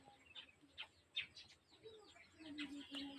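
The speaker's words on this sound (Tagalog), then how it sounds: "Ibon guys." Birds chirp and tweet in scattered short calls, fairly faint, with a low cooing or clucking near the end against a quiet background.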